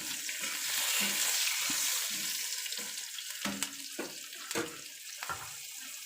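Onions fry in oil for a fish curry while a spoon stirs the pan, with a close hissing sizzle and a run of dull knocks and scrapes from the stirring.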